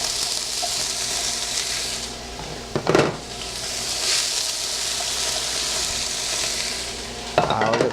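Onions and peppers sautéing in a pan for a white chili with ground turkey, a continuous close sizzle with two brief louder stirring scrapes, no voices.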